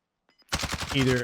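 Rapid automatic gunfire in the Warzone video game, a brief loud burst of close shots following a couple of faint clicks.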